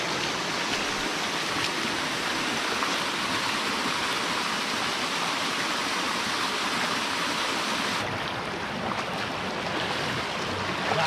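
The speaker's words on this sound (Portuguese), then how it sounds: "Olha, mais uma cachoeira. É igualzinho aquela outra, desce da pedra," A waterfall spills down rock from a mountain near an abandoned mine, a loud, steady, broadband rush of falling water that continues unbroken throughout, with no voices.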